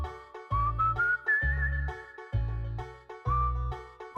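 A melodic whistled tune, clear and close, with sliding notes over a recurring low rhythmic accompaniment in a bouncy beat.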